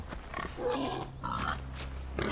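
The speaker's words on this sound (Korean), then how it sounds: "어 멧돼지야!" A wild boar in the video game Far Cry Primal grunts and snorts steadily at close range, with rough, low, pig-like grunts continuing throughout and no talk.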